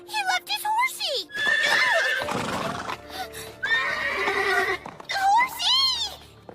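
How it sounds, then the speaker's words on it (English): A horse in an English-dubbed anime scene gives loud, wavering neighs and whinnies, several calls in a row, near and clear, with brief bursts of other sounds between them. "He left his horsey!"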